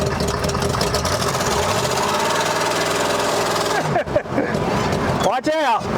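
An abandoned 1971 Ford Mustang, left sitting for 25 years, runs with a loud, rough, knocking idle that rises and falls in pitch, then sputters near the end while people talk close by.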